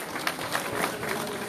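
Audience applause at a UDP congress in the USA, a steady wash of clapping with a few louder peaks, sustained and fairly close throughout the short stretch.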